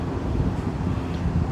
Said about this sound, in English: It's very windy. Very, very windy today.